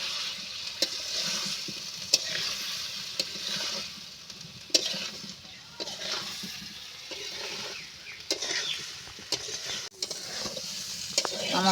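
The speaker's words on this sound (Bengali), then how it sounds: "এবার আমি ভেজে রাখা সয়াবিনটা দিয়ে দেব, দিয়ে আমি ভালো করে কষিয়ে নেব।" Fried soybean chunks and potatoes being stir-fried in a pan, with a steady close sizzle and repeated scraping and stirring clinks throughout, no talking.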